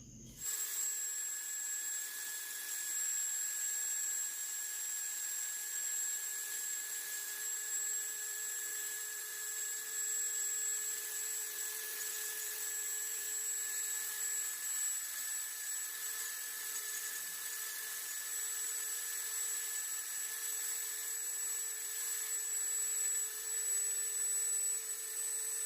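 Nail drill fitted with a ceramic cuticle cleaning bit, running as a steady high-pitched electric whine with a constant tone, close and unbroken for the whole stretch.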